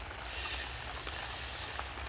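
Steady, heavy rain hisses continuously around a desert mud house in the morning, a dense wash of falling water with no voices.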